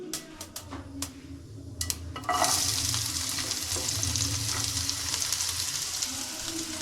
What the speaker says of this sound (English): Then I am going to add this chopped onion.